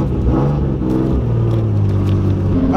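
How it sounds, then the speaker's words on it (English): A turbocharged Nissan 240SX engine at low revs before a wide-open second gear pull, a loud close rumbling drone with a wavering pitch, heard alone. "I'm gonna go ahead and do a wide open second gear pull"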